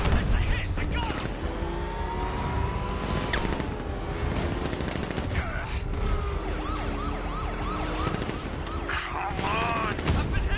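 Gunfire in the Batman game Arkham Knight, dense rapid shots layered with sirens, engine roar and loud combat noise that continue throughout, with shouted voices mixed in.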